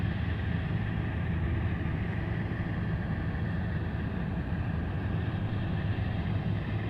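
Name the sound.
aircraft climbing after takeoff at Anchorage airport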